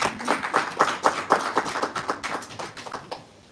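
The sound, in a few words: audience giving a round of applause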